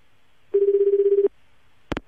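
Ringback tone on an outgoing phone call to a radio listener: a steady buzzing ring repeats once for about three-quarters of a second, then stops, followed by a short click or pickup noise. No one speaks.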